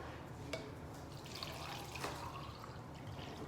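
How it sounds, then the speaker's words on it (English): Liquid for homemade almond milk is poured into a glass jar, a soft, continuous trickling stream with a few small splashes, fairly quiet and heard on its own without talk. "so we're gonna pour this in there"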